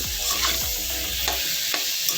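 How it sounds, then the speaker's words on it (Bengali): Potatoes seasoned with salt and turmeric fry in a pan, a close, continuous sizzling hiss with a few spatula scrapes and stirs scattered through it. "এবার একটু ভাজবো, ভালো করে আলুগুলো ভেজে নেব।"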